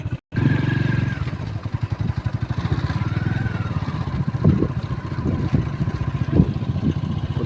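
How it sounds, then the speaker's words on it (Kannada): A motorcycle rides along a road toward a hanging bridge near Shivapura, its steady engine drone rumbling close throughout with a few clattering knocks and shifts in pitch. "ನಾನು ಬೈಕ್ ಹೋಗ್ತಾ ಇದ್ದೀನಿ ನೋಡಿ"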